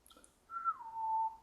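A person whistles during a saxophone masterclass, two faint quick high chirps and then a clear sustained tone that slides down and settles lower, close and quiet with no talk.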